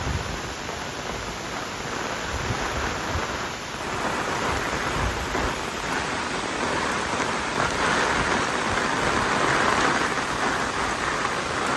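Heavy monsoon rain pours down in Konkan, a dense, unbroken roar of downpour that stays loud and even throughout with no one speaking.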